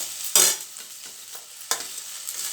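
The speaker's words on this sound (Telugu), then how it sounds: "దాంట్లో గోంగూర వేసేయాలి. అది మనం కొంచెం కొంచెం వేసుకుంటూ కలుపుకోవాలి." Gongura leaves stirred and fried in oil: a loud sizzling scrape as they are turned, a few softer stirs, then another sharp sizzle, close by with no talking.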